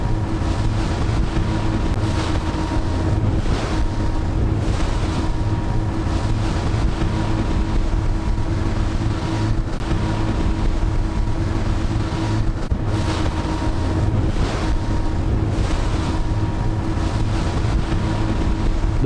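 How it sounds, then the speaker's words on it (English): A high-speed ocean-going raft sitting low to the water runs across the Pacific off Maui, giving a continuous loud rush of wind buffeting and engine drone with waves slapping the hull. "Captain Amy Venema piloted our high-speed ocean-going raft"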